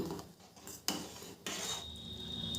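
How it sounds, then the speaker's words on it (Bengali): Sago pearls boiling in a pot of water and being stirred, giving a few sharp utensil knocks against the pot and a steady low bubbling wash, close and moderately quiet with no talking. "সাবুদানাগুলো অনবরত নেড়ে ভালো করে সেদ্ধ করে নেব।"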